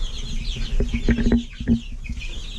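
Hens cluck in short bursts close by, a cluster of sharp calls over a steady background hum, with a few scattered softer clucks around them.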